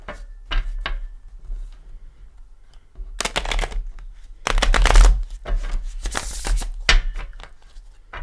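Gilded Tarot cards are shuffled in several bursts of riffling and slapping, close and fairly loud, with quiet gaps between them and no talking.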